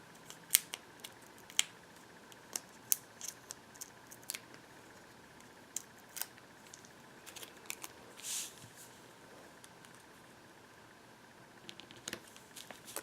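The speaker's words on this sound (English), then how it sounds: "So we'll just peel the backs off of these." Paper craft pieces for a party panda greeting card having their adhesive backing peeled off, heard as scattered sharp crinkles and ticks, close and quiet, with no talking.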